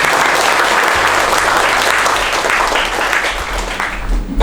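A lecture audience breaks into a burst of steady, dense applause for a student's correct quiz answer, loud and close throughout, with faint murmuring beneath.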